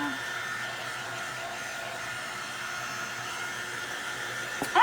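A hot hair dryer used for crafting candy corn from wooden shims gives off a steady, even whir with little change in level, running close by throughout and cutting off with a small bump right at the end.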